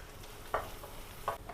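Onion and turmeric powder frying in a pan for a Kerala raw banana and prawn stir fry: a steady low sizzle broken by a few louder scraping stirs of a spatula.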